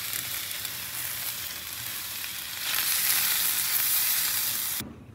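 Italian sausage and meatballs sizzle in sauce on a griddle, making a loud, close, continuous hiss that swells midway and then cuts off abruptly near the end.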